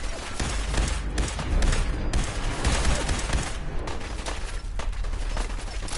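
Rapid SMG gunfire in the video game Fallout 4 rattles almost without pause, loud and dense, with overlapping bursts and impacts throughout.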